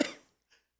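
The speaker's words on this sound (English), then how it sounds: "I have that same cough." A single sharp cough at close range, loud and abrupt before trailing off, followed by a faint short second cough or throat sound.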